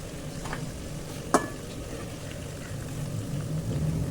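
Ghee poured into a hot pan of sizzling prawn gravy, a steady crackling sizzle with one brief sharp splash as the ghee hits, close and alone without talk.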